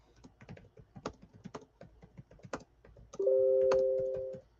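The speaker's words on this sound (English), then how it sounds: "Speaking of keyboard strokes, as we just heard" Rapid, irregular clicks of computer keyboard typing, close and steady for a few seconds, then a sustained electronic tone cuts in near the end.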